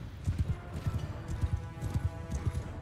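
Horse hooves in Mount & Blade II: Bannerlord, a steady rhythmic clip-clop of galloping hooves under a faint battle din, with no talk.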